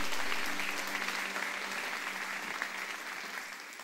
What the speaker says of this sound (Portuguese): Você pode aplaudir ao Senhor por essa palavra